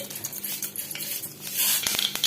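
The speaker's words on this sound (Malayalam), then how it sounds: "കടുക് പൊട്ടിയതിന് ശേഷം" Mustard seeds splutter in hot coconut oil in a pan, a dense scatter of quick crackles and pops that grows busier and louder toward the end, close and without talk.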